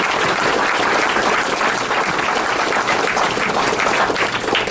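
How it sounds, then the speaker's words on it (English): Audience applause for city council candidates at a District B forum at the Petroleum Club in Shreveport: a dense, steady wash of clapping from a full room that stays loud throughout with no pauses. "let's give a huge round of applause to our candidates for this position"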